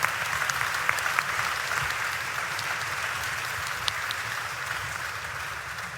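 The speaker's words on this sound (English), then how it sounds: "round of applause there, thank you so much" Sustained applause from a conference audience at the Estoril Conferences 2022 in Portugal, a dense, steady wash of clapping that holds at an even level for the whole stretch with a few sharper individual claps standing out.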